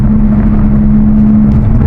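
A Lamborghini's engine drones loud and steady under throttle from inside the car, a deep rumble with a constant low hum and no voices.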